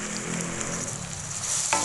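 Ground dried coriander and spices sizzling in hot oil in a karahi while potato and egg bhujia is cooked, a steady close frying hiss throughout with a brief sharper crackle near the end.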